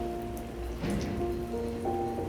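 Video game rain falling over Edinburgh, a soft continuous patter on surfaces with faint scattered drips, quiet and steady under a low background tone.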